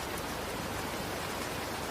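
Rain falls outdoors in a forest as a soft, even hiss of drops, faint and continuous, with no voices.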